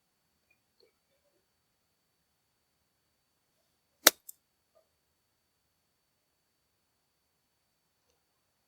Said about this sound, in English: I'm going to take a 54-degree wedge and hit kind of a little less than half shot.